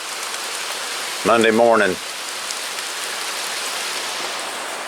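Light rain falls steadily in Peculiar as a soft, even hiss, with someone briefly speaking over it.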